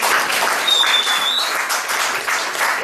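An audience applauds in a continuous, even burst of clapping, fairly close and loud from start to finish.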